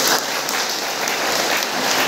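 Loud, dense applause from an audience at a public speech, sustained clapping filling the whole moment without letup.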